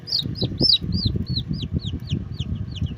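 Orpington chickens cluck low and steadily while a run of high, arching chirps repeats above them, close and continuous throughout.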